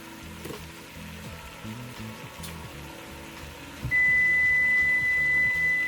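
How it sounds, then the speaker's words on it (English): A kitchen timer for cooking rice beeps with a steady high tone that starts partway through and runs to the end, loud over the ongoing sizzle of food frying in a pan. "It's my timer for my rice."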